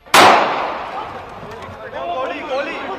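A single sharp gunshot-like crack rings out in news footage of an attack on a Punjab leader, followed by a decaying echo and crowd noise with voices rising afterward.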